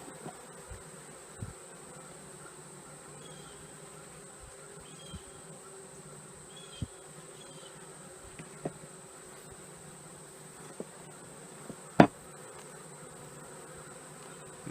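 Faint, steady honeybee buzzing around a top bar hive hangs in the background, with scattered soft clicks and one sharp knock partway through.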